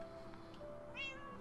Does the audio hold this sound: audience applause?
no